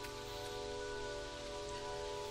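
Steady rain falls in the spring season of the video game Seasons After Fall, a constant even hiss with scattered drop patter under a faint tonal music bed and no talk.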